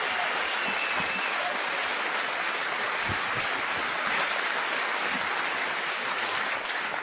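Audience at a stand-up comedy show bursts into steady, dense applause that fills the room for the whole stretch, with a few whoops and claps standing out, no speech on top.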